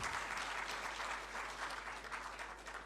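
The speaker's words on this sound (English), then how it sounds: "A round of applause, please." A crowd applauds continuously, a dense wash of clapping that sounds somewhat distant.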